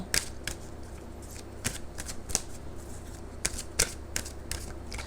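Playing cards being handled and shuffled, a series of sharp riffling clicks and snaps at irregular intervals, close and fairly quiet over a low steady background hum.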